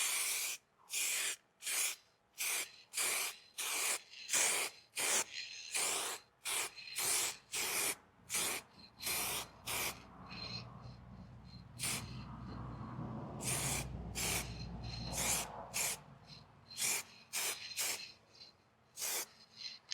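Spray can of new 2025 Mazda red paint laying a light coat on a Yamaha R 125 motorcycle part, heard as about twenty short, evenly spaced hissing bursts with brief pauses, close and fairly loud.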